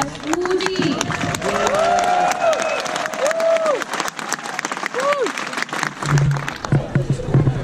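Audience at a tennis match applauding, a steady burst of clapping and cheering from the stands lasting several seconds before fading, with a few sliding tonal squeaks over it.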